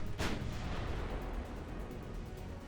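11-inch naval gun firing in the naval warfare game Ultimate Admiral Dreadnoughts, one sharp blast at the start followed by a low rumbling tail of distant battle noise.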